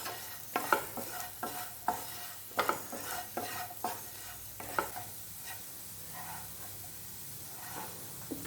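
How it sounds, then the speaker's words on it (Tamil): Potato fry with a quarter spoon of garam masala stirred in a pan: a spoon scrapes and stirs in irregular strokes over a soft, steady sizzle, fairly quiet and close, with no talking. "நல்லா மிக்ஸ் பண்ணி விடுவோம்."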